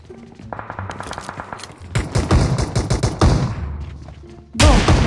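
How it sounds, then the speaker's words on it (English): Gunfire in the BGMI battle royale game: rapid automatic bursts and sharp single shots crackle loud and close, stopping and restarting in clusters. "Oh, shooting me."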